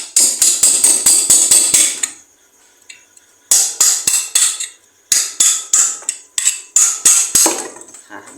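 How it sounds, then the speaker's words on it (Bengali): Repeated sharp hammer blows loosen the cover of a water pump motor during a water seal replacement, coming in rapid bursts of close, loud metallic strikes separated by short pauses. "আমরা আবার একটু বাড়ি দিয়ে ঢাকনাটা খুলে নিই"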